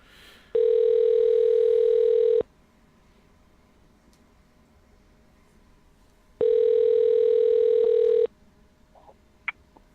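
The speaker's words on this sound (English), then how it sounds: "I'm going to see if I can't get Jay on the phone" Telephone call ringback tone, two long loud rings about two seconds each separated by a pause of silence, with a faint click near the end.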